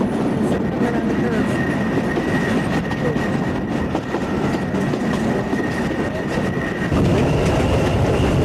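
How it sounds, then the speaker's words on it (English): Train approaching on a curve in Peru, a loud, continuous rumble and rattle of wheels on rails with a faint squealing tone, steady throughout and close by, with brief background talk. "Get the front of the train."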